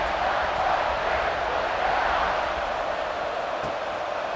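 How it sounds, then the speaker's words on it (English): A stadium crowd in EA Sports College Football 26 roars continuously during a kickoff after a touchdown drive, a broad sustained wash of cheering that stays loud and even throughout. "this crowd is feeling themselves after that last drive"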